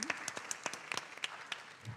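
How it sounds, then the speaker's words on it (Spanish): An audience claps for panelists at a Latin American consumer summit, a fairly sparse, moderate round of individual hand claps heard without talk. "Un aplauso, por favor."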